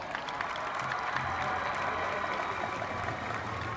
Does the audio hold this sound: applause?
yes